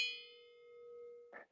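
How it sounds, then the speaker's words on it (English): A single bell strike gives a bright metallic ding that rings on in a steady, slowly fading sustained tone before a short muffled clatter at the end, close and fairly clear, with no voices. "Ring the damn bell."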